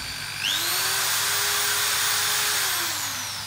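A Maktec MT80B electric drill spins up to high speed and holds a smooth, steady high-pitched whine, then begins to wind down near the end, loud and close with no talking.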